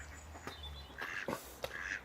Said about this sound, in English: the ducks are coming across because somebody else is feeding them.